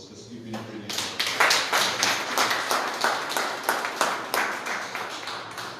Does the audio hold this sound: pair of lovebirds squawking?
no